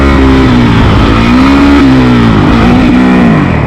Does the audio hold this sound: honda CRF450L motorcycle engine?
yes